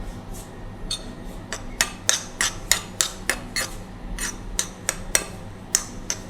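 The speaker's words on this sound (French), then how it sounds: "On essaie de mélanger sans trop casser le riz." Spoons or forks scrape and clink against a bowl while caviar is folded gently into rice, a close, irregular series of sharp metallic taps and chinks spread across several seconds with quiet room noise underneath.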